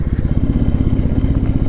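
A motorcycle chugs along a rough, broken off-road mountain road through forest in Uttarakhand, its close, loud engine putting out a rapid pulsing thump with rattling bumps and no talk over it.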